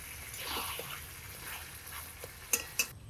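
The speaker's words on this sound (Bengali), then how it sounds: "আগে মাংসটা ফোড়নে পেঁয়াজের তেলে ভাজা ভাজা করে নিই" Soft sizzling of chicken frying in onion oil with whole spices, with scraping and stirring, a couple of sharp metallic clinks near the end; no talking.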